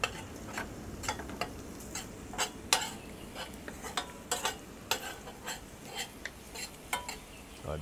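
Garlic frying in a pan while being stirred, with a soft sizzle under repeated sharp scrapes and clinks of a utensil against the pan in an uneven rhythm, close and moderately quiet, with no talking.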